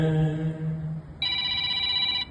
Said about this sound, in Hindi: फोन आ गया था।